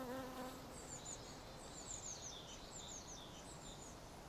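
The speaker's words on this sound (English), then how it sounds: "So I'm not going to deprive the bees completely" Bees buzz steadily and close among uncut garden plants, a continuous drone with birds chirping faintly in the background and no voices.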